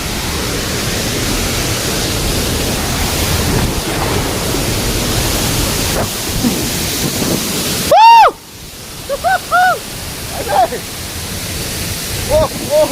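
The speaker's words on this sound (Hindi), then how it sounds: "तो अभी हम वाटरफॉल के पास आए हैं।" A steady broadband roar of a waterfall fills the first eight seconds, close and loud, then cuts off abruptly, followed by quieter scattered tones.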